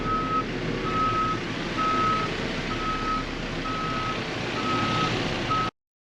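A JCB 3CX DualDrive backhoe loader sounds its reversing alarm, seven evenly spaced beeps over a steady diesel engine drone, close and loud, cutting off abruptly at the end.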